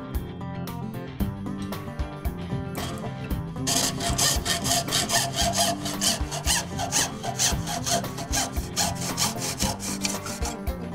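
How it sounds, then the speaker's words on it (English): Handsaw cutting a 250mm length of 20mm PVC electrical conduit, a steady rhythmic rasp of back-and-forth strokes that gets louder and more regular after the first few seconds, close up with no talking. "Cut a length of conduit 250mm long."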